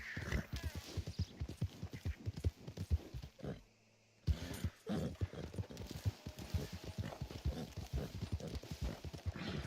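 Horse hooves clip-clopping in the video game Red Dead Online, in a steady, quick rhythm that pauses briefly midway and then resumes, fairly close and clear.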